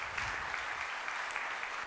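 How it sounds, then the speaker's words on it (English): Audience applause after a talk at a World Usability Day conference in Berlin, a dense, steady wash of many hands clapping together, moderately loud and continuous, with no speech on top. "This is your applause."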